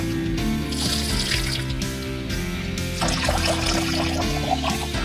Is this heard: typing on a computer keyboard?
no